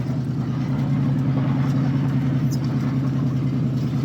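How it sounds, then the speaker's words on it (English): A 1977 Pontiac Firebird idles slightly fast, a steady close mid-low engine rumble holding an even pitch throughout with no revving or pauses. "Oh, it's idling a little high."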